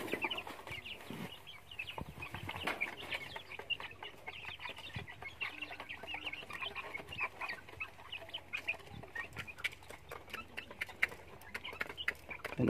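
Two-month-old chickens kept for sale, meat or breeding cluck and squawk continuously and fairly close, with scattered sharp calls standing out over a busy flock background and no talking.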